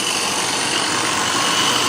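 A rotary attraction motor turning a flux gate generator at about 857 RPM gives a steady, dense mechanical hum and whir, unchanging and fairly loud throughout.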